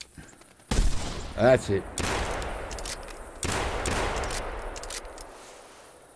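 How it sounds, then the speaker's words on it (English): Gunfire from a hunting rifle in theHunter as turkeys are shot, several loud close reports with rolling echo tails, spaced across the stretch, a voice speaking briefly over the shots. "I love the sound of that gun."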